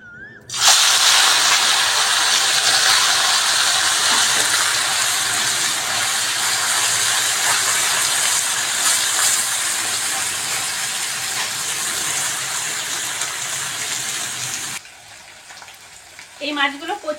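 Fish dropped into hot oil erupts in a loud, dense, crackling hiss that holds steady for many seconds before cutting off abruptly, followed by quieter clatter and a voice near the end.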